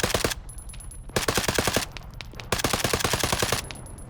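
AK-74 rifle fire in the video game Arma 3, heard as rapid automatic bursts of loud close shots separated by brief pauses, with no talking.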